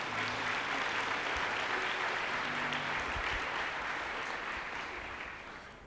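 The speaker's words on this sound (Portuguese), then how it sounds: "Você pode aplaudir a Jesus aí?" A church congregation applauds during a service, a thick wash of clapping that holds steady and tapers slightly toward the end, with no speech over it.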